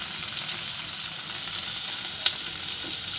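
Pomfret fish coated in semolina (rava) frying in a pan and being turned over, a steady bright sizzle with one brief scrape of the spatula partway through, no voices.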